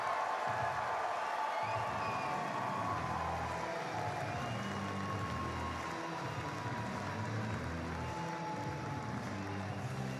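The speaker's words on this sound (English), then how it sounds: "Please make some noise and have a huge welcome for Czech Republic." A large arena crowd at the STIHL TIMBERSPORTS team world championship in Toulouse cheers and applauds the Czech Republic team, a steady broad roar of clapping and whoops that holds at even strength throughout.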